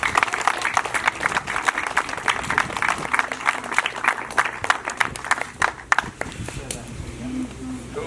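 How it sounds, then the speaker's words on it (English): Scattered applause rises for Harvey and Declan at a youth football club's 2023 awards presentation, uneven claps close by mixed with crowd chatter and talking throughout, tapering toward the end. "round of applause for Harvey and Declan"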